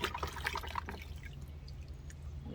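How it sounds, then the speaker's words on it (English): Freshly harvested vegetables rinsed with water outdoors, splashing and dripping near at first then settling into a quieter trickle, with no voices. "Now this is me giving everything a good rinse off"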